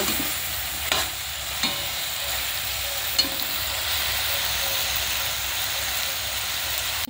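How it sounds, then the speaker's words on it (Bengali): Snail (guguli) curry with potatoes stir-fried in a pan, a constant close sizzling hiss broken by a few scraping stirs and knocks of the spoon, with no talking. "ভালো করে আমি কষিয়ে নিচ্ছি"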